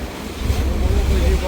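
A car ferry eases in to dock at Ilisha launch ghat, its low engine rumble steady under wind and water wash, close and fairly loud.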